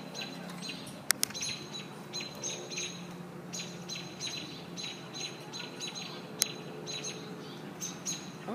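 Blue jays calling while mobbing a hawk outdoors, a string of harsh repeated calls and chirps spread steadily throughout, moderately loud with a couple of sharp clicks and no talking.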